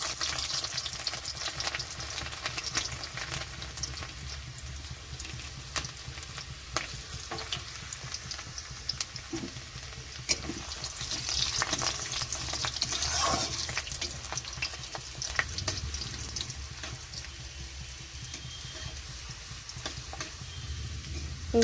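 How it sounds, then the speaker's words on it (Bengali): Chopped garlic fries in hot oil in a kadai along with whole cumin, dried red chillies and bay leaves, giving a close, steady sizzle with occasional stirring scrapes and no talk. "রসুনটা একটু ভাজা হয়ে গেছে।"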